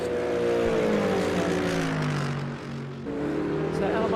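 A GT3 race car in a sim-racing league race at Road Atlanta roars past with a loud, fluttering exhaust note that holds steady, dips briefly as the throttle lifts, then builds again.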